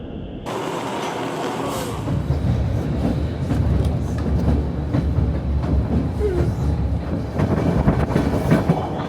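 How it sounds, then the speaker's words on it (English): Steady rumble of a moving White Pass Railway train in Skagway, Alaska, from inside a carriage, with continuous rattling and clacking of wheels on track, loud and close throughout. "Okay, so we're on the train, we're moving"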